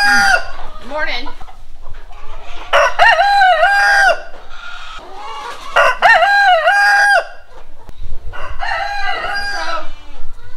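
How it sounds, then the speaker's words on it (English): Chickens cluck steadily while a rooster crows loudly several times, close by, with the barnyard calls overlapping in bursts. "The chickens like to roost up here."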